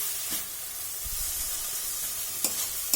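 Grated radish and bori cook down for chechki in a kadai, a continuous soft sizzle and hiss under a few scraping stirs of a spatula, with brief sharper clinks near the end.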